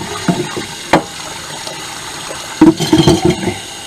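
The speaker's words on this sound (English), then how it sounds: "I'm gonna head and do my dishes in here." Hot tap water runs into a small sink in a Class B camper van for washing dishes, a faint steady flow broken by a few louder splashes and clatters near the end.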